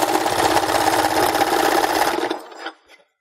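A sewing machine stitches a scarf with a steady, fast mechanical whir and rapid needle chatter, fairly loud and close, then slows and stops near the end, leaving silence.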